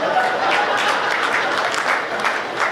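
Audience clapping at a Hindi stand-up comedy show, a dense, steady wash of applause from a crowd that holds at an even loudness throughout.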